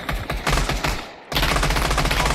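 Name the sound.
gunfire in the VR video game Pavlov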